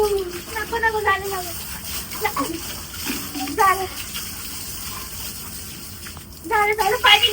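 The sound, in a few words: cold water being poured over a child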